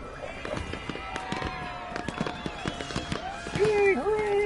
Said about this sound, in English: Yay, hooray, woohoo, fireworks!